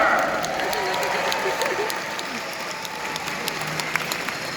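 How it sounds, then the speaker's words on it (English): Crowd applause at a jousting tournament, a broad wash of many hands clapping outdoors at steady loudness for the whole stretch, tapering slightly toward the end, with faint voices mixed in. "a nice round of applause for Aaron's favor!"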